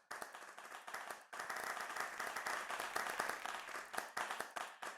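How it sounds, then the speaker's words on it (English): Virtual clapping sounds, triggered by pressing the C key on a keyboard, from a crowd gathered at a VR event. The claps overlap into a dense, steady patter of applause lasting throughout, with a brief dip near the start. "let's give off and use the C key on our keyboard for clapping"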